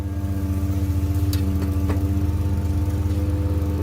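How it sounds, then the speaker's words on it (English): A lawn mower engine drones steadily nearby on a mowing day, a continuous loud rumble running through the whole stretch without pause and no voices over it. "There's a lot of noise because we're mowing today."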